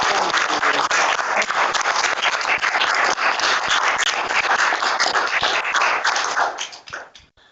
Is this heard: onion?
no